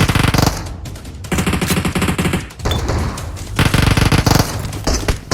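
Heavy automatic gunfire in the PUBG Mobile battle game rattles in loud, dense bursts, cutting out for brief pauses before resuming in rapid sustained volleys.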